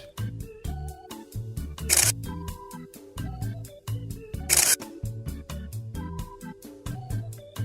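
A camera snaps photos during a selfie with an assembled Bburago Alfa Romeo Brera toy car, with repeated rapid shutter clicks in quick bursts and two sharper, louder shutter snaps standing out, close and without talk.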